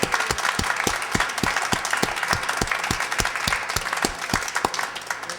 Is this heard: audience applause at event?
yes